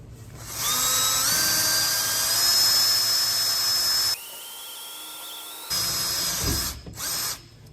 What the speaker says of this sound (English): You just kind of put the drill right in the middle of that hole.